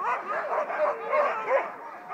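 Sled dogs in harness before a dog-sledding run near Tromsø yip, whine and bark together in an excited, continuous chorus, close and loud.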